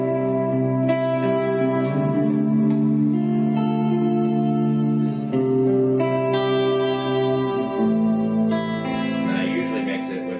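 An electric guitar played through a thick reverb and chorus setup rings out with sustained, layered chords that wash and echo into each other, loud and continuous for about ten seconds.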